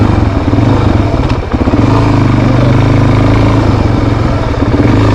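Suzuki DRZ400 dual sport motorcycle being ridden on the road, a loud, close single-cylinder engine thrum with rough pulsing and heavy wind rumble throughout.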